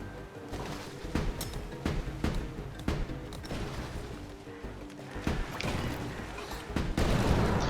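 Repeated booming explosions and crashes burst out one after another over a dense, continuous rumble of game action in Ship of Fools, loud and busy throughout.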